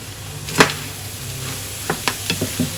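A spatula scrapes and taps in a pan while stirring chicken and pork cauliflower rice, a faint sizzle underneath with one sharp clack early and a run of quicker light knocks toward the end.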